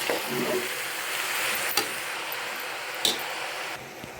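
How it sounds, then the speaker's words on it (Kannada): Red chili powder is stirred into a bottle gourd dal mixture in a pan, giving a soft, close scraping and sizzling hiss with two brief sharper clinks of the spoon, and no speech. "ಅರ್ಧ ಸ್ಪೂನಷ್ಟು ಅಚ್ಚ ಖಾರದ ಪುಡಿ ಇಷ್ಟನ್ನು ಹಾಕ್ಕೊಂಡು ಚೆನ್ನಾಗಿ ಮಿಕ್ಸ್ ಮಾಡಿ"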